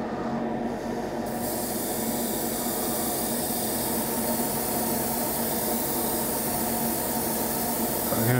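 Spray can hissing steadily and close, one continuous spray lasting the whole stretch with no breaks or talk.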